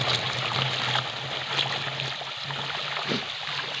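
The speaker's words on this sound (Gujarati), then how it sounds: "કમ્પ્લીટ પાણી નીકળે છે હાલે છે" Irrigation water runs steadily through a channel in a castor field, a continuous close rushing and trickling flow with no voices.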